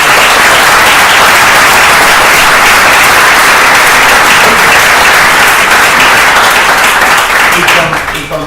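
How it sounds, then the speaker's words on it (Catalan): Loud, dense audience applause fills a lecture hall at the Paella Fòrum 2018, sustained steadily throughout before tapering off at the very end. "Això jo crec que mereix un aplaudiment molt fort."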